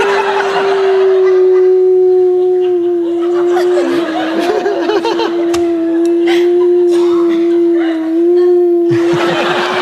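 A person holding a long, steady howling note in imitation of a wolf, wavering slightly, with laughter breaking in near the end.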